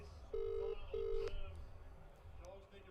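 A phone call is dialed: two clear tones, each about half a second long, sound close and clean, followed by faint line noise and some background talk.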